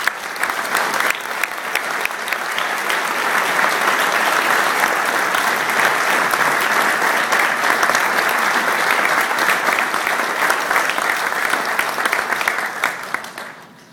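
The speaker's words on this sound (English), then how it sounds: "Let's have a big, one more round of applause." Sustained applause from an award-night audience fills the hall, loud and steady with dense clapping that holds evenly before fading out at the very end, a faint murmur of voices beneath it.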